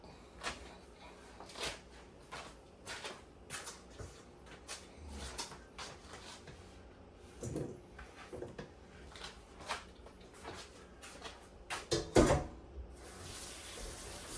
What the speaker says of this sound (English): Go ahead and give them a wash about 3 times.